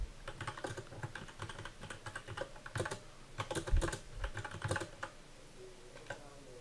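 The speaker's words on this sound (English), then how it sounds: "Now we have to type in these three commands." Commands being typed on a computer keyboard during a software install, a close run of quick key clicks in uneven bursts with short pauses and a few heavier keystrokes.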